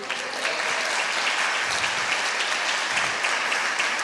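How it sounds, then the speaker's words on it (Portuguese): Church congregation applauding during a sermon, a steady, dense wash of clapping from many hands that holds evenly throughout without pause. "Você pode aplaudir o Senhor?"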